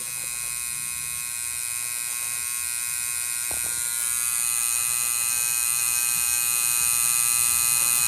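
A tattoo machine buzzes steadily and close throughout a tattoo session, a continuous high electric whine that grows slightly louder partway through, with no talking.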